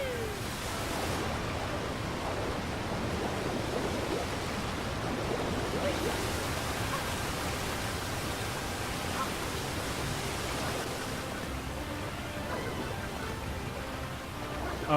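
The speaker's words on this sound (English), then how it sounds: "So it's right beneath the waterfall here." Steady rushing waterfall in the Cascade Kingdom of Super Mario Odyssey, a constant broadband roar of falling water that holds at an even level throughout with no break.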